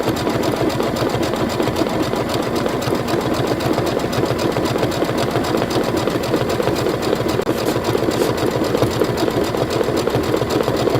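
An embroidery sewing machine stitches out a quilt design, a loud, fast, even mechanical chatter running unbroken and close by with no talk over it.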